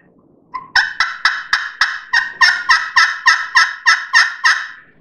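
Aluminum turkey call played up close, producing a loud, crisp series of about a dozen evenly spaced yelping clucks in steady rhythm, alone without talk.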